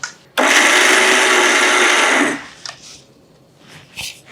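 Mixer grinder whirring loudly for about two seconds as it blends a poha ladoo mixture with jaggery, a steady dense roar that cuts off abruptly, followed by faint scraping and handling noises.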